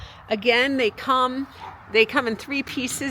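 Small dogs bark and yip insistently nearby, sharp high barks in quick bursts mixed with whimpers, heard over someone speaking.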